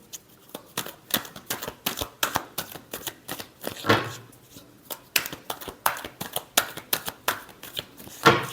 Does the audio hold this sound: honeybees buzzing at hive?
no